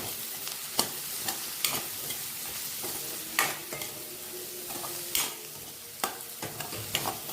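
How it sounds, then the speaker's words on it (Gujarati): A vegetable manchurian mixture is stirred with a little oil in a pan, giving a steady sizzle and irregular sharp scrapes and knocks of the utensil, close and moderately loud, with no talking. "બધું મિક્સ કરી લઈએ."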